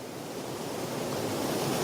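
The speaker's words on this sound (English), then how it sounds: "Got some of the seaweed here with the waves coming in." Sea waves surge and wash onto a shore lined with seaweed, a continuous broad roar of surf with no pauses, close and steady throughout.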